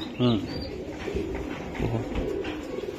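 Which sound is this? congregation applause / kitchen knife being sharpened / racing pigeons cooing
racing pigeons cooing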